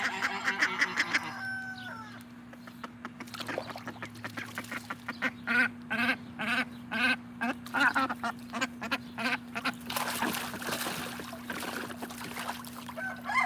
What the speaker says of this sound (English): Come here, you crazy duck.